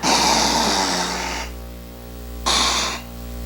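A preacher imitates loud snoring with his voice during a live service in San José, Jalisco, Mexico: two long, rasping inhaled snores, close and strong, separated by a short quieter pause.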